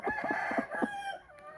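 A hen on a farm, sitting on eggs, gives a quick run of throaty clucks and murmuring calls, close and fairly loud, with no voices over it.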